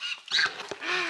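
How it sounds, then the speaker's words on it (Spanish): A turkey gives a short, close burst of harsh, honking gobble calls, loud and alone, lasting about a second. "Se me aventó este guajolote."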